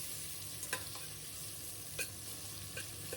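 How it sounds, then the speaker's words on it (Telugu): Sliced onions frying in a pan with biryani spices and green chilies for a gongura paneer pulao, a steady soft sizzle with a few brief stirring scrapes, close and alone. "ఇప్పుడు ఈ ఉల్లిపాయ ముక్కలు మంచిగా ఫ్రై అవనివ్వాలి."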